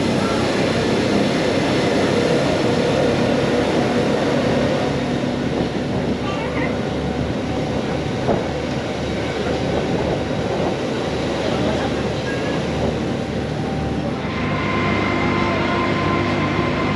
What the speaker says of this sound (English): Just waiting for the other train to come down.